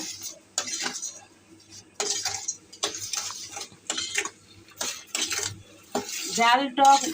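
A spoon stirs a mango chocolate mixture with sugar and salt in a pan, giving repeated metallic clinks and scrapes in irregular bursts with short pauses between, close and fairly clear.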